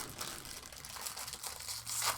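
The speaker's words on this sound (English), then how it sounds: "Excuse the rustling for a minute, guys, but I've got to eat." A breakfast bar wrapper crinkles and rustles in irregular close bursts, quiet and dry, with a louder crackle near the end.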